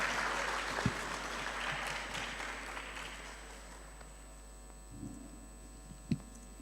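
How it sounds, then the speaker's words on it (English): Applause from an audience at a university research day presentation session, starting moderately and fading to a thin patter under a steady hum, with a few sharp clicks near the end. "Can we please give him just one last round of applause as he goes back?"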